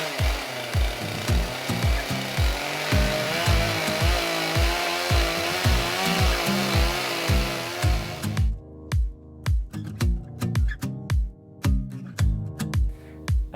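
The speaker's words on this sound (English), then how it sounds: "So using chainsaw mill, there's a nice contrast to see how it used to be done and how we can do it now as well." A chainsaw mill cuts timber at a sawmill, its engine snarling loudly and steadily with a rhythmic pulse, then breaking into a series of choppy revving bursts toward the end.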